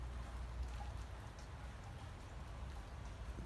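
Rain falls steadily outdoors, a soft, even hiss of drops pattering on surfaces with no talk over it, continuous and fairly faint throughout.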